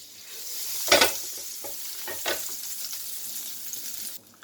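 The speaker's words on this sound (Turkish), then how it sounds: "2 yemek kaşığı da tereyağımı koyuyorum. Şimdi tereyağımın erimesini bekleyeceğim." Butter melts, sizzling and crackling in a hot pot, a steady frying hiss with a few louder bursts of spattering, close and without talk.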